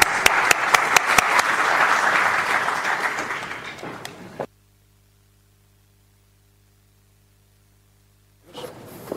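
Conference audience applause at an innovation event as partners are invited onto the stage, a dense burst of clapping for about four seconds that cuts to near silence, with noise returning at the end.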